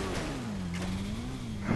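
A motorcycle engine in the game GTA V revs in a short, steady buzzing drone whose pitch dips and rises slightly, loud and close with no talk.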